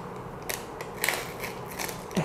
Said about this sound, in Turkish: Açıyorum lipstick'i.